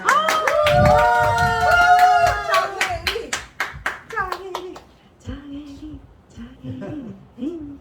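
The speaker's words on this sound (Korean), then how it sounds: "열화와 같은 박수" Enthusiastic audience applause at a Korean beauty product seminar, as a featured speaker is welcomed, with dense clapping that fades after a few seconds, followed by a voice speaking over the last of it.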